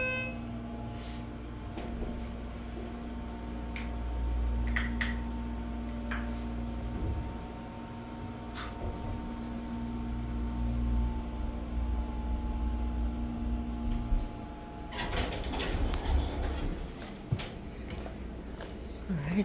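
A Schindler HT hydraulic elevator riding up, giving a low steady hum with faint ticks and knocks inside the car, then a louder burst of rattling and rustling toward the end.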